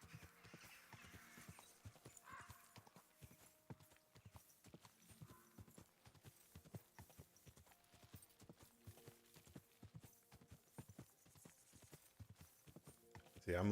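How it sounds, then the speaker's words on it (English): Rhythmic clip-clop of horse hooves trotting at a steady pace in a video game, fairly quiet, with a faint ambient backdrop throughout. "The horse is getting some exercise today."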